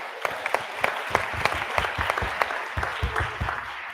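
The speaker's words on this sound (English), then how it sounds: "Can we give them a hand of applause?" An audience at a business event on talent acquisition technology gives a round of applause: dense, close clapping from many hands that keeps going steadily for several seconds.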